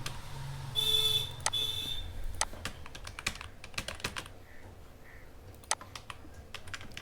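Keys on a computer keyboard click in quick, irregular strokes at close range while an online ration smart card application form is filled in. A brief electronic tone sounds near the start, and no one speaks.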